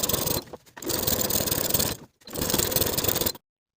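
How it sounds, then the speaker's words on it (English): A sewing machine top stitching a jacket seam runs in three steady, buzzing bursts of motor and needle noise, separated by short pauses, then stops. "Then we're going to top stitch along the lower part of the upper front piece, catching that seam allowance as we go."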